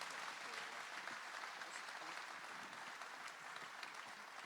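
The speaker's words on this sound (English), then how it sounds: "Ladies and gentlemen, please give them a round of applause." An audience at a base gathering applauds as wing commanders are welcomed, producing continuous, even clapping that stays faint and distant throughout.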